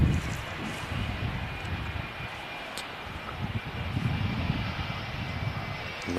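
An airliner decelerating on the runway after landing at Manchester Airport, a broad distant engine roar holding steady with slight swells, heard alone without talk.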